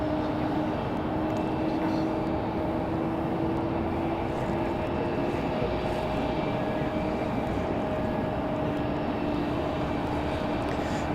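An American Airlines Boeing 737-800 arriving at Raleigh-Durham airport on a windy day, a steady broadband jet roar with sustained engine tones holding loud and even throughout, with no break.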